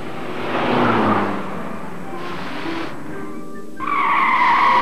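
Cartoon car driven after a makeshift repair, with loud skidding and tire-squeal swells, a brief whine, then a high sustained screech at the end.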